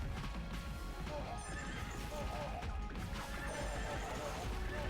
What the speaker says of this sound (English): Wait, are those horses with bombs?